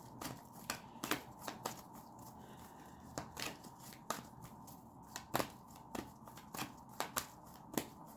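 Tarot cards are handled and shuffled in quick, faint riffles and taps that repeat at an uneven rhythm against a quiet room.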